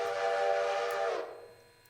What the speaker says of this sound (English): And blow the whistle.